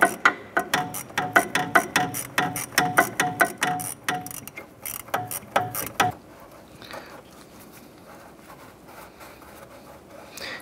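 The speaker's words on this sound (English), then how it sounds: "Loosen up that clamp." A radiator hose clamp on a 1993-1997 Ford Ranger is loosened with a ratcheting tool, a rapid run of close, sharp clicks for about six seconds, then quieter scattered handling sounds.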